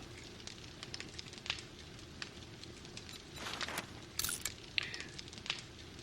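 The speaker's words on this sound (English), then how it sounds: "Let's also make a campfire." A campfire burns in the survival game 7 Days To Die, making a steady low crackling hiss with scattered sharper pops and snaps throughout, heard alone without any talking.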